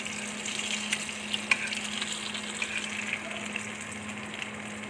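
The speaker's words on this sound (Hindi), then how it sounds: "अभी हम डीप फ्राई कर रहे हैं।" French toast deep frying in hot oil, a steady bubbling sizzle with small crackles and pops, moderately loud and close, running continuously with no talking.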